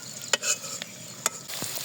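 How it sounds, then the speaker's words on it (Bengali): Onions hit hot oil in a wok, with cardamom and cinnamon to follow for a chicken bhuna: a soft frying hiss broken by a few sharp metal spatula scrapes and clinks. "আর এদিকে কড়াইতে পেঁয়াজ দিয়ে দিচ্ছি"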